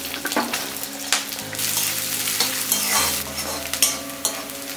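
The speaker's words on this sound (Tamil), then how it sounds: "எண்ணெய் சூடாயிடுச்சு. ஒரு 3-4 இலை கருவேப்பிலை, அது கூட 2 பெரிய வெங்காயம் இந்த மாதிரி ஸ்லைஸ் ஸ்லைஸாக கட் பண்ணி வச்சுடுங்க" Sliced onions and curry leaves fry in hot sunflower oil, a dense crackling sizzle with repeated stirring scrapes and clinks against the pan, heard alone.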